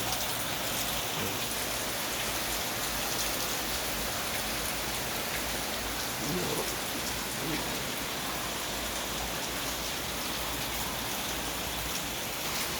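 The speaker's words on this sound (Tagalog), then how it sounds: "Medyo malakas pa rin ang ulan dito sa ABC." Heavy rain pours down steadily on surfaces, a dense continuous roar close by, with no voices.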